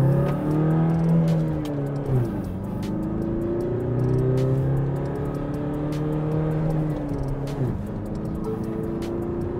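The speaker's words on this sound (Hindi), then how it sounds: "फर्स्ट गियर, 2500 आरपीएम तक ये रेव करती है" A 2025 Tata Harrier SUV accelerates hard through its gears, engine rising in pitch, dropping sharply at each shift around the second and eighth seconds, then climbing again; a loud, steady in-cabin drone with no talking.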